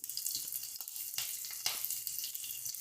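A green chili sizzles and crackles steadily in hot oil for a chicken leg fry, with bright frying hiss throughout and small pops and stirring sounds, no voices.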